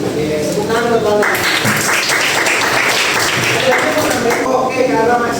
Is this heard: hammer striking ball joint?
no